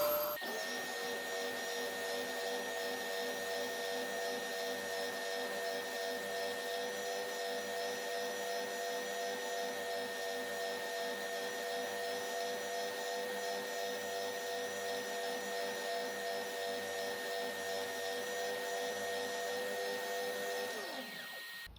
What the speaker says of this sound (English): Okay, turn on our vacuum.